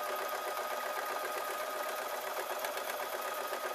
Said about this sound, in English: what I'm going to do is I'm going to sew down this strip